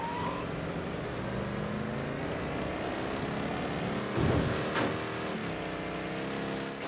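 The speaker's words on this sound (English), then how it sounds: "It's good we're driving a big tough wagon." Engine drone from a big, tough wagon driven in the video game Mafia 3, a steady loud motor hum with a couple of brief thumps midway.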